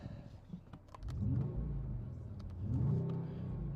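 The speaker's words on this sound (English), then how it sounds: "This car here has some AMG performance sound coming out of the speakers." A low, steady engine-like rumble swells twice as if revving, sounding artificial and smooth, with no talking; simulated AMG engine sound played through the speakers of a 2025 Mercedes CLE 53 AMG Cabriolet.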